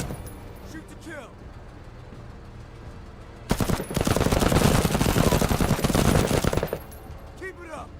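Sustained automatic gunfire from a bug-shooting video game, a dense loud burst lasting about three seconds between quieter stretches of background game sound and a voice.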